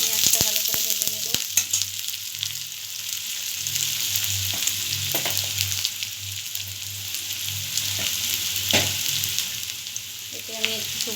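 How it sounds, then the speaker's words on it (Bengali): Onions fry in a pan with a steady, loud oil sizzle, broken by a few sharp clinks of stirring near the start and end. "এরপর আমি পেঁয়াজটা ভালো করে ভেজে নেব।"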